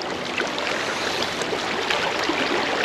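A mountain stream in Sapa rushes over rocks, a continuous close bubbling and splashing flow with sparkling trickles, steady in level and free of speech.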